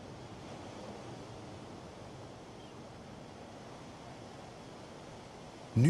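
Steady broadband roar of sea waves on a southern coast, a continuous washing surf with wind noise that holds evenly throughout, ending in a brief louder thump.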